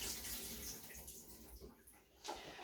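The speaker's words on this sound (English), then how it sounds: "I'm just going to run them under the cold tap and then rinse all of that water off" Fruit rinsed under a running cold water tap, a steady, quiet hiss of flowing water with faint splashing and no talking.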